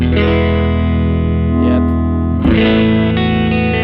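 A loud, bright electric guitar chord from a Fender Stratocaster with Alnico 5 pickups and a maple neck rings out with distortion, sustains, then is struck again around the midpoint and keeps ringing.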